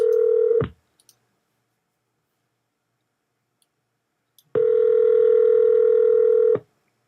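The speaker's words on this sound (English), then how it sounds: "Answer this phone" A telephone call sounds in the earpiece, a steady loud tone burst, a few faint clicks and silence, then another long ringing tone close up.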